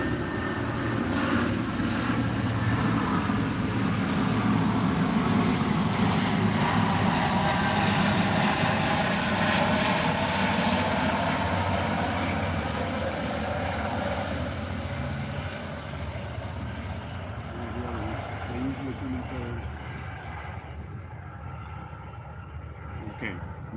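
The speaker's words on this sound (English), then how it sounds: "Intermission from compliments of the United States Air Force. C-130s based in Little Rock" A US Air Force C-130 from Little Rock flies overhead, its deep propeller drone swelling loud and then slowly fading away, with someone talking over it.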